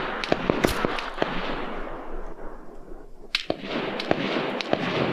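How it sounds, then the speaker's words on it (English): AI soldiers fire in ArmA 3, heard as scattered sharp distant gunshots, single cracks and short bursts popping irregularly over a rushing ambient background, with no talking. "there's an AI firing"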